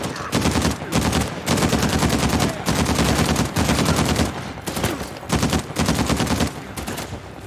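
Heavy automatic gunfire aimed at the player in the video game Uncharted 4, long loud bursts of rapid shots separated by short pauses, close and relentless.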